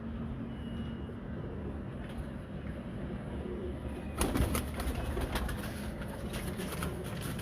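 Domestic fancy pigeons coo softly at a breeder's, low murmuring calls under a dull background, with a sudden burst of rustling noise partway through.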